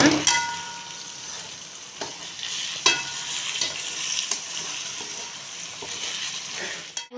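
Egg masala gravy with broken eggs sizzles and fries in a pan, a steady crackle broken by scraping strokes of a spatula as the mixture is turned over, close and fairly loud with no voices.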